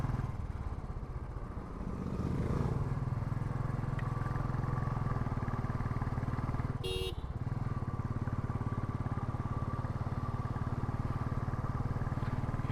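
A motorcycle engine rumbles steadily and loud at close range throughout a ride, with an even, continuous drone.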